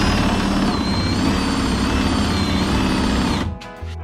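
A power drill bores into a defective Mercedes car trunk lock, a loud, steady high-pitched whine held for several seconds before the motor spins down at the end.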